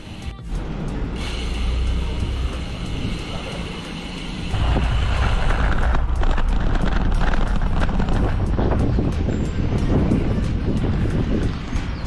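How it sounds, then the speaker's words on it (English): Strong southeasterly wind in Cape Town buffets the microphone on a bike ride, a loud continuous low roar that swells and thickens after a few seconds and stays heavy throughout. "We have a strong southeastern wind coming from down there."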